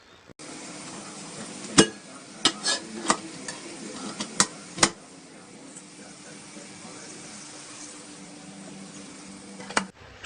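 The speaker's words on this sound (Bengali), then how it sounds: "দিয়ে দিচ্ছি কেটে রাখা টমেটো কুচি দিয়ে এক থেকে দু মিনিট ভেজে নিচ্ছি" Chopped tomatoes and vegetables fry for a Bengali fish curry, a soft continuous sizzle punctuated by several sharp clinks and scrapes of a utensil against the pan as the mixture is stirred.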